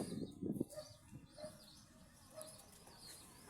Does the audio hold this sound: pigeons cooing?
yes